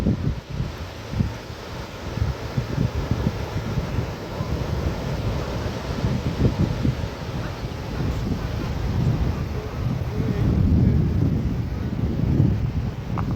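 Sea breeze buffets the microphone while waves wash onto an empty Purushottampur beach at midday, a steady, loud roar of surf and wind gusts throughout, with no one talking.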